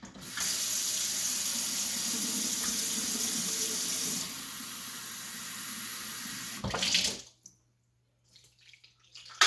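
Tap water pours steadily from a faucet into a cup for about seven seconds while preparing a crispy cauliflower coating, then shuts off, leaving near silence with faint handling.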